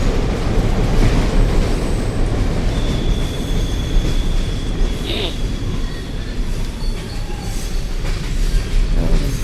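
A train rumbles steadily along in the video game Bendy and the Dark Revival, a loud continuous roll with a faint high squeal of wheels rising partway through.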